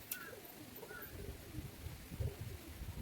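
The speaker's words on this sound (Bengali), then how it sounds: "হচ্ছে বাড়ির তালদম পায়রা দেখে নিন" Domestic Taldam pigeons coo softly at close range, low murmuring calls repeating over a faint, steady background hiss.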